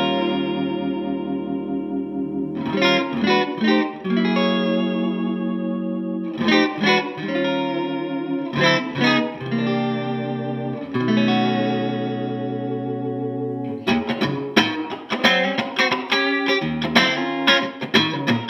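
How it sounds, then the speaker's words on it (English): Electric guitar in a clean tone through a Boss Nextone transistor amplifier plays strummed chords and arpeggiated phrases with pauses, ending in a quicker run of picked notes, with a slight chorus-like shimmer. "This is a clean sound in the Boss next tone transistor amplifier."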